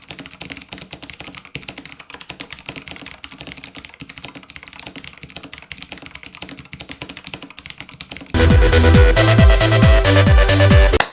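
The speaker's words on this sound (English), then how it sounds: "the Razer green switches are actually really good for typing" Continuous fast typing on a Razer BlackWidow Chroma V2 mechanical keyboard with green switches, a dense stream of close, crisp clicky keystrokes that turns abruptly louder and fuller near the end.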